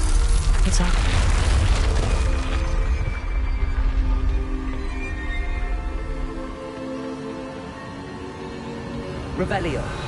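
Incendio fire spell cast in Hogwarts Legacy, a heavy booming blast that opens loud and deep, then rumbles and fades over several seconds into a low burning roar, with game ambience continuing beneath.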